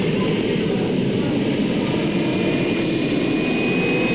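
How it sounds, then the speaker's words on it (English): A pulling tractor powered by two Rolls-Royce Gnome helicopter turbines roars at full power, a continuous high-pitched whine over a heavy rumble, close and unbroken. "2 Rolls-Royce gnome turbines from a Wessex Sea King helicopter"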